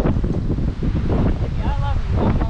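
Hard wind at the Sunset Rock lookout on Lookout Mountain near Chattanooga, Tennessee, a loud continuous roar buffeting the microphone, with people talking underneath.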